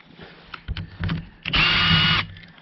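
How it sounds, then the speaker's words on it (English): Dewalt DCF601 cordless screwdriver driving a screw back out: a few short whirring bursts, then a sustained, louder high-pitched whine lasting under a second before it stops, heard up close. "So now we're going to use the Dewalt."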